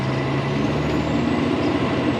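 A Peterbilt 387 truck with an Eaton 10-speed UltraShift transmission runs in automatic drive, its engine droning loudly and steadily close by as it upshifts at about 1600 rpm.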